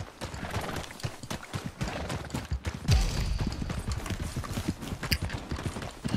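Horse hooves in the Red Dead Redemption 2 video game, a rapid clip-clop of galloping strides, close and busy, with a sharp thud and whoosh midway and scattered crackling sounds over the hoofbeats.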